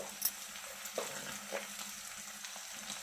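Green chillies and curry leaves frying in hot oil for a chana dal coconut curry, a steady soft sizzle with light stirring clicks, close and fairly quiet.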